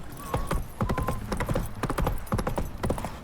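Roach, Geralt's horse in The Witcher 3, gallops in a steady rapid rhythm of loud hoofbeats, with a brief whinny near the start and game music underneath.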